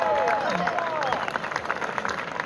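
A crowd at a paddleboard race finish line cheers and claps for a racer, with shouts and whistles rising early then thinning into scattered applause.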